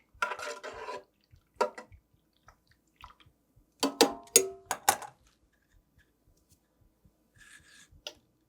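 A wild mushroom dye bath being stirred in a pot: a few short, scattered scrapes and sloshes with quiet gaps between, close and soft.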